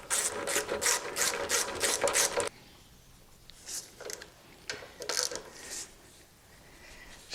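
A ratchet clicks in quick bursts as a brake caliper bolt on a Kawasaki VN1500 Meanstreak motorcycle is snugged down, a loud run of clicks first, then sparser, quieter clicks and small handling noises.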